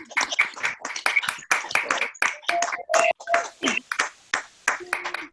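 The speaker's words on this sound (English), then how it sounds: "you can unmute yourself and just applaud for all our readers tonight" A small online reading-salon crowd applauding readers, with bursts of clapping mixed with cheers and whoops in quick uneven spurts, close and lively.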